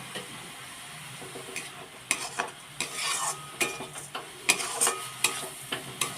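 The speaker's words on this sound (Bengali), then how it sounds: "ভালো করে নাড়িয়ে নেব।" Sugar is stirred into a flattened rice sweet in a pan, with repeated close scraping and clinking strokes of a spoon against metal and a light sizzle beneath.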